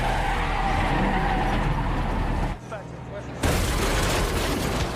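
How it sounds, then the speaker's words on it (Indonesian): Tires skid and a car slams into a police car during a chase, a loud sustained roar of engine and screeching that drops out briefly before the harsh crash noise returns at full force. "Kecelakaan pun tak terelakkan. Tuh mobil polisi langsung ditabraknya."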